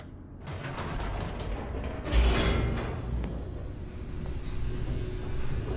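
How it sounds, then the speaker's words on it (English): An elevator descends in the video game The Stanley Parable, a low mechanical rumble with creaking and clanking of gears, including a heavier jolt partway through, and no voices. "The elevator raced downward, plummeting towards an unknown fate."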